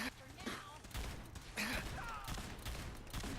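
Fallout 4 gunfire rattles in repeated volleys under constant voice chatter, with sharp shots cutting through a busy, noisy firefight.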